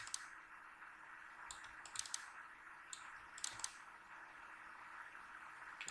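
Computer mouse clicking in small sharp bursts while retouching a portrait in Photoshop, scattered single and double clicks over a steady faint background hum.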